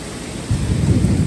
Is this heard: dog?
no